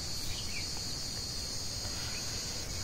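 A cicada, the 17-year periodical kind emerging in the rainy season, gives a loud, steady high-pitched buzzing drone throughout, with faint bird calls and insect chirps nearby.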